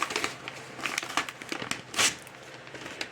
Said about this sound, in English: I'm taking off the tape that was on this.